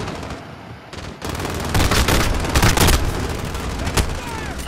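Gunfire in the Modern Warfare video game, with dense rapid bursts and booms, loud and close, and voices talking over the shooting.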